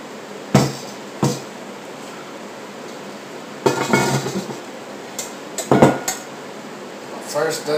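A new cast-iron Dutch oven being handled and set down, giving several sharp metallic clanks and knocks scattered between quieter stretches, close by.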